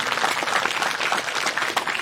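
Audience at a comedic Islamic sermon bursts into sustained applause, a thick, even wash of many hands clapping fairly loudly without pause.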